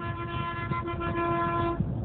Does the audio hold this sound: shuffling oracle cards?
no